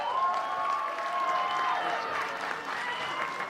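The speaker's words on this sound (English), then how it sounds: "Let's clap for them." A crowd at a polo tournament in Kenya applauds steadily for a few seconds, with cheering mixed into the sustained clapping.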